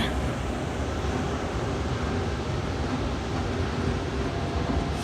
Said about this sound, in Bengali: এই প্ল্যাটফর্মে একটা ট্রেন দাঁড়িয়ে আছে